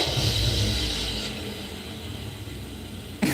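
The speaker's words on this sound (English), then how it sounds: "You guys want to hear a guitar, car engine chord?" A Boss GM-800 guitar synthesizer plays a chord built from five layered car-engine tones, giving a dense, steady rumbling drone that holds for about three seconds with no voices over it.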